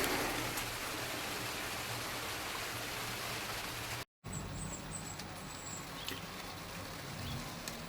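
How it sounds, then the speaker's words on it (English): Steady rain hisses continuously over everything, a dense wash of drops with a brief cut of silence partway through. "You can probably hear it's raining at the minute."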